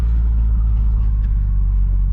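Nissan Skyline R34 sedan with a turbocharged engine pulling forward out of a driveway, a loud, close, steady low rumble from idle that holds through the short clip with no talk.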